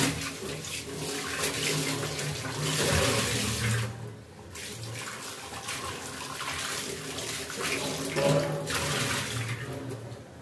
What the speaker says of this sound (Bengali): আলুটা একটু পরিষ্কার করে নিব ধুয়ে।